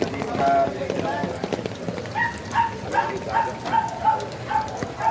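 In a knee-deep flooded street in Makati, a dog gives a run of short, evenly spaced barks or yelps. They sit under nearby talking and the wash of water and rain.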